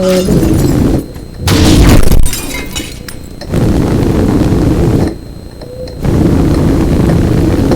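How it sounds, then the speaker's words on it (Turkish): Explosions and crumbling debris tear through a shopping mall in the destruction game Teardown, loud crashing and shattering bursts separated by brief lulls of rumbling background noise. "patlama efekti yaptık"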